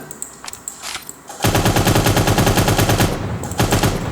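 Gunfire in the futuristic shooter game Cyber Hunter: a few scattered single shots, then a long, loud, rapid automatic burst with short gaps near the end.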